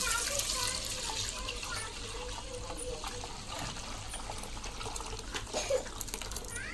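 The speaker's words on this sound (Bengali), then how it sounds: "সেটার মধ্যে এখন দুধটা ঢেলে দেবো।" Milk pours steadily into a bowl whose sides are coated with curd starter, making a continuous close liquid trickle and splash with faint background noise throughout.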